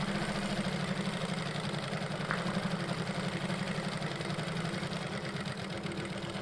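A repaired sewing machine that had jammed on thick fabric now runs in a steady mechanical hum with a fine rapid rhythmic chatter, continuous and fairly quiet, with no talking.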